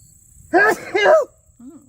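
A person sneezes twice in quick succession, close and loud, followed by a brief low vocal sound.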